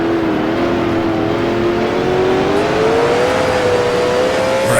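Race car engine in the Grand Prix Legends video game during a 1966 Can-Am round at Bridgehampton, a steady loud drone whose pitch rises gradually as the car accelerates through a sweeping left-hand turn, with no voices.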